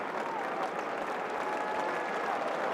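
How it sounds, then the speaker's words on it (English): Crowd at Lord's cricket ground cheering and clapping for a bowler during an England v India Test match, a steady wash of applause from a large stadium audience, with voices faintly present. "the crowd getting in, cheering in behind him now"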